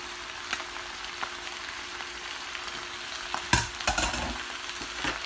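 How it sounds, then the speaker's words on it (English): Drained, still-warm cooked noodles for chicken lo mein dumped into a hot pan, giving a steady close sizzle and frying hiss with a louder burst of crackle as they land and are stirred. "cooked noodles that were drained in the colander, and I'm going to dump those in"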